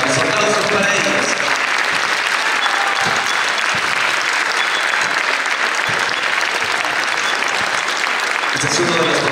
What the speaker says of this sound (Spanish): Los aplausos para ellos.